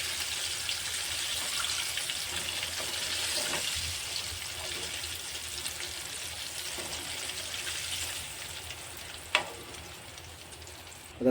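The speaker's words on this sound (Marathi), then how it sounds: "जे बाकीचे उरलेत त्यांना पण आपण असंच तेलामधून तळून घेणार आहोत" Paneer pieces frying in hot oil for chilli paneer, giving a steady soft sizzle throughout with a couple of brief clinks near the end.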